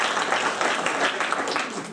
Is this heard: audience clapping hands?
yes